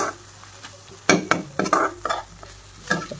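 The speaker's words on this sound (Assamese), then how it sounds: "পিঁয়াজ জিৰা দি দিছোঁ মছলাখিনি মই পানী দি পেলাই অলপমান এনেকৈ ধুনীয়াকৈ সিজাই" Onions with cumin and masala stirred in a pan, a spatula scraping in several quick uneven strokes over a low background sizzle, close and fairly loud, with no voices.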